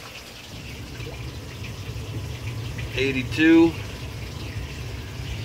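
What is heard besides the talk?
water running into fish room tanks during water change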